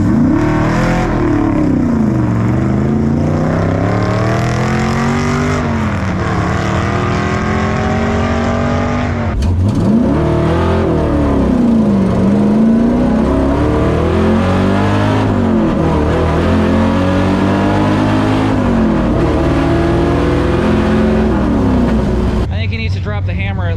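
A Mopar race car with a 360 Magnum V8 accelerates hard on a track, its loud engine climbing through repeated rising sweeps with gear shifts and a brief drop near the middle, close and continuous throughout.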